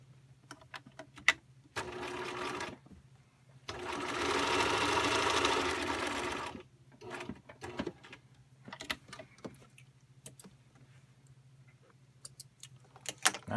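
A home sewing machine stitches seam allowances together in short bursts, one longer steady run in the middle, with faint handling clicks between, close and fairly quiet.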